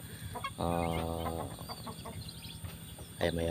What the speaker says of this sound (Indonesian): Ini ayam Bangkok teman-teman.